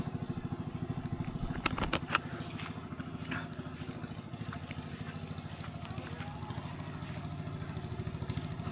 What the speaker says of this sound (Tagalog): Ang mga motor dyan ha, baka masagasa mo ang si Snow